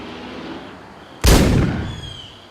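A single loud gunshot cracks out close by and leaves a long decaying tail over a low steady background rumble.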